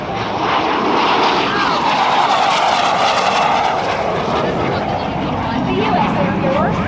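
A T-33 Shooting Star jet makes a fast pass at roughly 400 mph at an air show, a loud, sustained roar that holds steady and then shifts in pitch as it sweeps past, with crowd noise faintly beneath.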